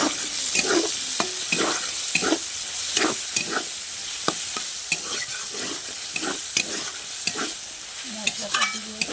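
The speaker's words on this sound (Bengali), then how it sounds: "মশলাটা দিয়ে অনেকক্ষণ ধরে ভালো করে কষাতে হবে।" A thick spice paste of dried chilli, ginger, cumin, onion and garlic with coriander powder sautés in a pan for singara filling. A continuous close sizzle runs under rhythmic scraping stirs and occasional soft hissing.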